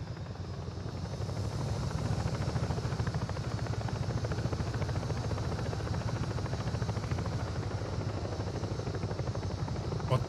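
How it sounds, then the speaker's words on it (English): Helicopter in the video game Ghost Recon Breakpoint, a loud continuous rotor drone with thumping low rumble and broad hiss, steady and close throughout with no pauses. "Where is my freaking chopper?"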